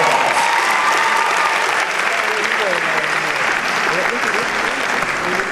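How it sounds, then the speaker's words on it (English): A pageant coronation audience gives loud, steady applause from a large crowd that holds up for the whole stretch. Faint cheering rises through the clapping now and then. "Let's give them all a round of applause"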